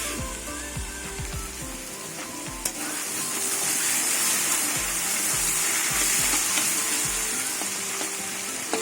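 Potatoes fry in a pan, with cauliflower pieces alongside, making a steady, close sizzle that swells and holds loud through the middle, with occasional scrapes and clinks of stirring.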